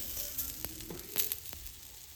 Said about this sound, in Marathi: आता थोडंसं तेल टाकतं आहे आणि बारीक गॅसवर भाजून घेतं आहे